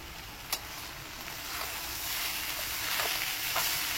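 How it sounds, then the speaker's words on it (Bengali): A mashed taro mixture frying in a kadai, giving a steady, even sizzling hiss with a few faint clicks of stirring that grows slightly louder over time; nobody speaks. "এবার এটাকে মেশাবো আর নাড়তে থাকবো।"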